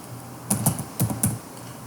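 Several quick keystrokes tap on a computer keyboard in small bursts, close and crisp against a quiet room, no talk.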